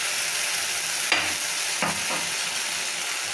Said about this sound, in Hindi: इसे हम करीब 10 से 15 सेकेंड भूनेंगे